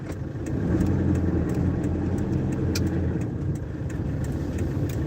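Car in congested city road traffic near Commonwealth in Quezon City, heard from inside as a steady mid-low engine and road rumble with faint passing-vehicle hiss, no talking.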